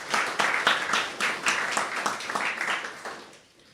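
A crowd at an anniversary celebration gives a round of applause, loud and close with distinct rhythmic clapping throughout, fading out near the end.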